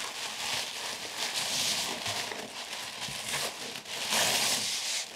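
Eco-friendly cushioned packaging wrap crackles and crinkles as it is folded around an item, a close, continuous rustle that swells into brighter bursts of crackle near the end.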